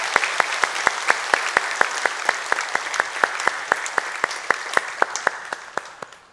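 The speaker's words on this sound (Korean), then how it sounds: "하나님께 영광의 박수 올려드리겠습니다." Congregation applause during Sunday church worship, a sustained round of clapping with a rhythmic, evenly spaced beat running through it, gradually fading near the end.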